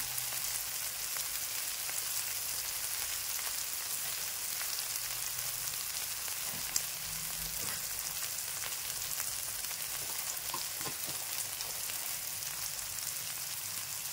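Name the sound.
tomatoes frying in a pan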